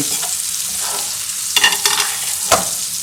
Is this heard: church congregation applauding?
no